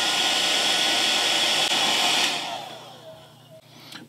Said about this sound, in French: Je vais faire un petit séchage hors caméra au sèche-cheveux pour accélérer tout ça.